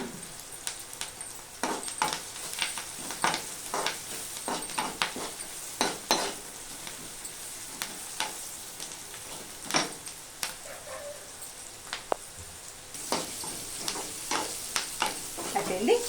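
Onions fry in a pan with salt and turmeric while a spoon stirs them, a steady close sizzle broken by repeated scraping and clinking strokes against the pan.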